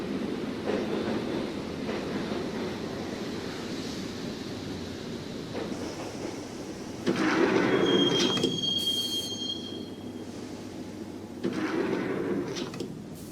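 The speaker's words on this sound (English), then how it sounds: "the train doors had already shut behind me, and I was in for the ride" A subway train in the Max Payne video game rides along the rails with a steady rumbling roar, broken by two louder bursts where the wheels squeal sharply, plus a thin high whine in between.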